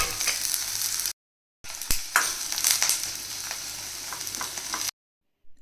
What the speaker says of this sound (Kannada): ಇದು ಗೋಲ್ಡನ್ ಕಲರ್ ಬರೋವರೆಗೂ ಚೆನ್ನಾಗಿ ಎಣ್ಣೆಯಲ್ಲಿ ಫ್ರೈ ಮಾಡಬೇಕು.